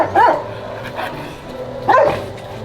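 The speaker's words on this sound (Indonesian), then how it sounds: "K9 Nyusar atau pencarian orang hidup, dia memberikan reaksi gonggongan." K9 police search-and-rescue dog barking during a live-person search training exercise: two loud, close barks about two seconds apart with a softer yelp between them, no speech.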